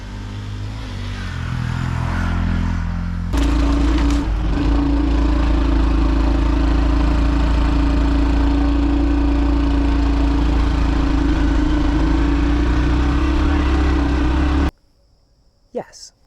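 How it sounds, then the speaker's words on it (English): A Honda CT125 motorcycle climbs a gentle grassy bank, its single-cylinder engine droning loud and close with a steady rise in pitch, then cutting off abruptly near the end. "Can you ride the Honda CT125 up a gentle gradient on a grass bank?"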